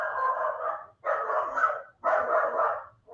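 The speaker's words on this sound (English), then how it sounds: "I take it your dogs have something to say about that too." Several dogs bark in three loud, sustained bursts separated by short pauses, set off by a delivery arriving; the barking is close and fills the whole clip with no talk over it.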